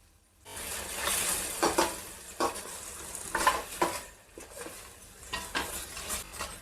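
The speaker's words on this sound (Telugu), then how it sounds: "పేస్ట్ వేసేసుకుందాం వేసుకొని దీన్ని కూడా బాగా వేపేసుకుందాం" A paste of browned onions and cashews fries in a pan for a mixed vegetable curry, giving a soft continuous sizzle broken by repeated scraping strokes of a spoon.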